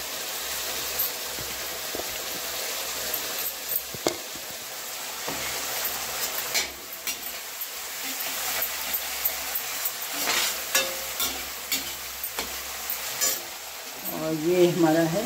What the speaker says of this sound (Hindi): और ये अब डाल देते हैं हम अदरक लहसुन का